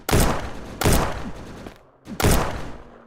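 Gunfire in a shooter game played inside Streamer Life Simulator 2: three loud, close bursts of rapid shots in steady succession, each cutting off sharply.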